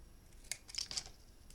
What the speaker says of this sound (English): I am going to snip the corners, just like that on both sides